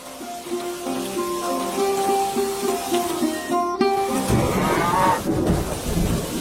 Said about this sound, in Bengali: বৃষ্টি আরো জোরে নামতে পারে